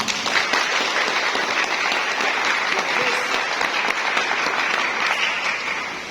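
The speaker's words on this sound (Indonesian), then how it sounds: "Tepuk tangan ya." A crowd of students and guests at a madrasah closing ceremony applauds, loud sustained clapping from many hands that holds steady and tapers slightly at the end.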